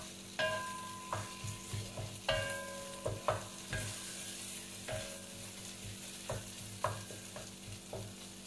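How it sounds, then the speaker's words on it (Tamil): Egg and tofu are stirred together in a frying pan, with distinct spatula scrapes and knocks in an irregular rhythm over a soft background sizzle, close by and without speech. "I'm just going to mix the egg with the tofu."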